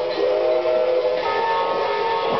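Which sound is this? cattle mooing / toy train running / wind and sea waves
toy train running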